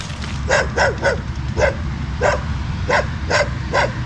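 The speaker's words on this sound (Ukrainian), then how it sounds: "Гавкіт, гавкіт, гавкіт біля намета" Dogs bark repeatedly at a moderate distance near a tent by a roadside football field at night in Chaitén, Chile, sharp yaps coming in irregular bursts over a constant low background rumble.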